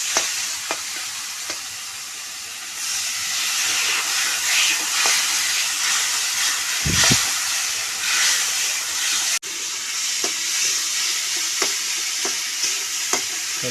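Cut potatoes dropped into hot oil in a pan for an Odia fish curry, giving a loud, steady sizzle and hiss with occasional stirring clinks and a brief low thump.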